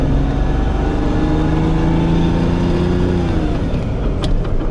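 A Lamborghini Diablo's Italian V12 engine revs up, its loud, rising harmonic roar climbing steadily for about three seconds before easing off, close to the microphone with no talking.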